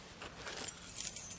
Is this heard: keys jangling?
yes